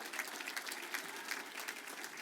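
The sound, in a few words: audience applause at awards ceremony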